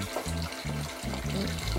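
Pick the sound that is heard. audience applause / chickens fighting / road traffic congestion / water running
water running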